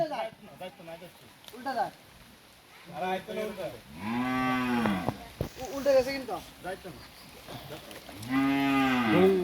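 Cattle moo repeatedly, long drawn-out lowing calls close by, as cows are brought out and shown to buyers at a sale, with people talking in between.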